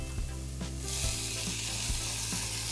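Vegan inari sushi filling sizzles and fries steadily in a pan as it browns, with a few soft stirring scrapes breaking through the close, continuous hiss.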